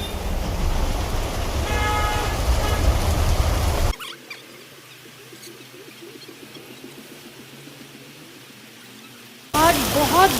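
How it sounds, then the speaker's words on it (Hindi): Heavy rain falls on a street market in Bhimtal, Uttarakhand, a loud dense wash that cuts out to a quieter, sheltered patter for several seconds before the full downpour returns, with no one talking. "आज बहुत बारिश हो गई है"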